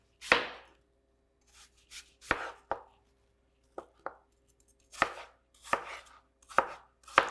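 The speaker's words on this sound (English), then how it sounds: "Cut your apple into equal size cubes." A knife chops an apple into small cubes on a cutting board: about a dozen crisp, close knocks in an irregular rhythm with brief gaps between them.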